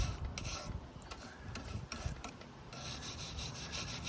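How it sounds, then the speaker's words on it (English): Dirt is scrubbed off a Rover P4 gear stick part with close, continuous raspy rubbing strokes in an uneven back-and-forth rhythm. "just going to give it a bit of a scrub"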